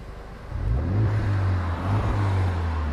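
A Renault Megane 3 RS fitted with a stainless steel exhaust line is given a light blip of throttle, its engine rising from idle into a smooth, moderate rev, heard close and muffled from inside the car.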